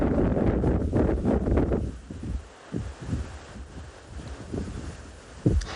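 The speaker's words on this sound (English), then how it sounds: "So we talk about wind that it has actually picked it up a little bit" Wind gusts across the microphone on a morning safari drive in South African bush, a steady broadband roar with dull low buffeting thumps that swell loudly early on, then ease into quieter, intermittent bumps.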